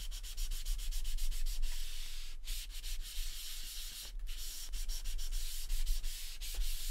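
A burnishing tool rubs masking tape down onto card: a steady, close, dry scraping rub that runs almost without a break, with a couple of short pauses and no talk.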